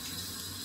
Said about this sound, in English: And I just wet it with warm water, can't be too hot.